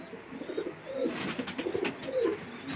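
Fancy pigeons in a loft coo softly and repeatedly, several low throaty calls overlapping at a relaxed pace against quiet background rustle.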